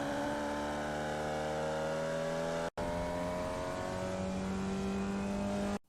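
A Formula Vee race car at Virginia South in iRacing, its engine droning at steady high revs with a single instant cut partway through before the harmonic whine returns, loud and continuous.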